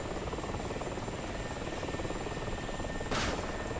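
A low-flying AH-64 helicopter in a video game gives a steady, close rotor-and-engine drone with a faint whine, rising to a brief louder burst near the end, with no talking.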